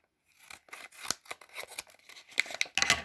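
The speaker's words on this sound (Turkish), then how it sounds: "Şimdi Lor Surprise paketini açmaya başlayalım." Scissors snip open a homemade surprise package with a quick run of short, crisp cuts and faint crinkling. The sound is close and quiet, with no talking.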